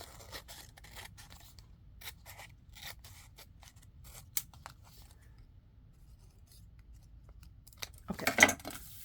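Scissors snipping paper for a junk journal folder, a run of quick crisp cuts in close succession near the mic, pausing midway before a louder burst of snips and rustling at the end.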